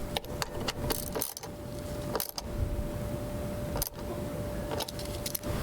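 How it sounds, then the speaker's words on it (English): Screws being driven into a Remington 550EX lawnmower carburetor, a series of close ratcheting clicks and short mechanical turns with brief pauses, no talk. "Make sure to start both screws by hand first before tightening them down."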